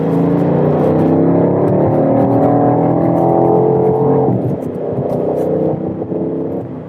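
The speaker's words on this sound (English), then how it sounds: "We took the X5M on a drive." A BMW X5 M Competition SUV accelerates hard on the road, its engine droning loud and steady with a rising, strained tone, then easing off slightly as it shifts and pulls on.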